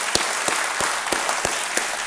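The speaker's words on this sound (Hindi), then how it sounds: "एक बार फिर तालियां।" Studio audience applause on the Kaun Banega Crorepati quiz show set, a dense steady wash of many hands clapping together at moderate loudness with a few sharper individual claps standing out at regular intervals.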